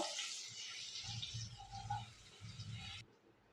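A glass of water pours into a cooking pan, a close, fairly loud gush with a lower bubbling splash that runs for about three seconds and then stops abruptly.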